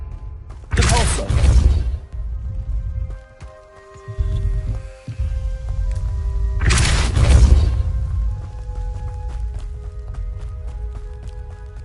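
Two loud bursts of a force-push spell impact in Hogwarts Legacy, each a broad booming blast about a second long, separated by quieter game ambience and a soft musical hum.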